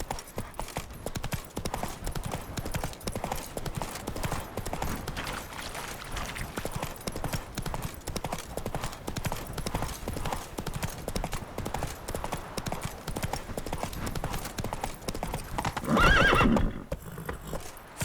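Roach, the horse in The Witcher 3 video game, gallops in a fast, continuous rhythm of hoofbeats, ending with a loud whinny near the end, and faint talk sits underneath.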